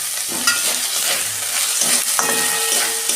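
Tomato goes into frying ginger and garlic in a pan, keeping a loud, steady sizzle going close by with faint stirring scrapes throughout.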